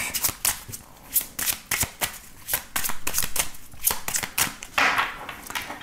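Tarot cards being shuffled and cut by hand, a quick series of crisp riffling flutters and soft slaps in irregular bursts, close and fairly quiet with no talking.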